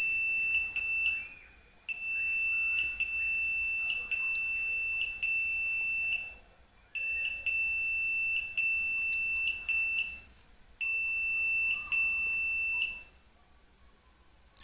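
A microcontroller buzzer in a student microprocessor project plays Morse code: loud, clear electronic beeps in steady bursts of short and long tones, with brief pauses between letters and words.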